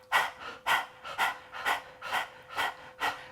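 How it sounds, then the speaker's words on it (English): Rhythmic breath-of-fire panting with the tongue stuck out, done like a panting dog during a belly-focused yoga exercise: seven quick, even, breathy huffs about half a second apart, close and clear with no talk. "we're just going to pant like a dog"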